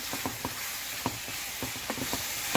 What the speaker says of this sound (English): like you see me, I am stirring the beef